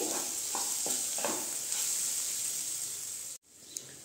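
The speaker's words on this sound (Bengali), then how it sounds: "ঘিটা দিয়ে আমি ঘিটাও ভালো করে মিশিয়ে নিচ্ছি" Ghee is stirred into a sizzling khichdi mixture in a pan, a close, steady frying hiss with a few soft stirring scrapes before the sound cuts off abruptly near the end.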